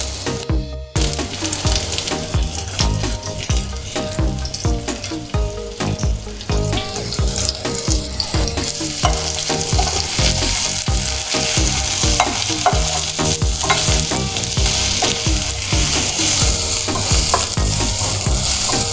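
Onions sauté in oil in a pan as the base for South African chakalaka, a loud, close sizzle broken by frequent clattering stirs of a spoon against the pan, with no talking.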